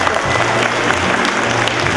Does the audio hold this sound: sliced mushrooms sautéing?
no